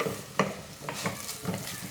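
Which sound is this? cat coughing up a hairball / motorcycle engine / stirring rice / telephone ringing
stirring rice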